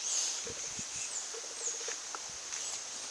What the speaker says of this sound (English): The birds, as you can hear, are not happy.